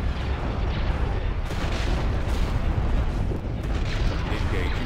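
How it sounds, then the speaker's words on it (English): Explosions from a Star Wars space battle video game involving an Imperial Star Destroyer rumble in a continuous, heavy barrage of deep booms and crackling blasts, loud throughout, with voices occasionally audible. "I see pretty explosions"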